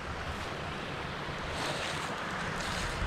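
A small waterfall on a rural property near an old grist mill makes a steady, dense rush of splashing water, constant and fairly close, with no voices.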